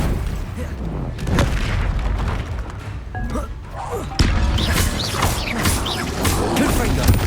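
Expelliarmus disarming spell effects in Hogwarts Legacy combat, with repeated booms, whooshes and crashing impacts over a dense battle backdrop, one sharp strike standing out near the middle.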